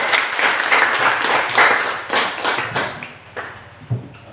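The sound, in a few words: classroom applause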